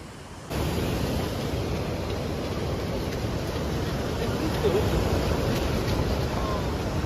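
Waves at Kuta Beach in Bali roll in as a constant broad roar of surf, loud and steady, with wind buffeting the microphone throughout.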